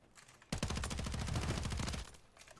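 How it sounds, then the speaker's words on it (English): Rapid bursts of automatic gunfire in an online multiplayer shooter game, a dense, sustained volley lasting about one and a half seconds at steady loudness, then cutting off. "Where are they shooting from?"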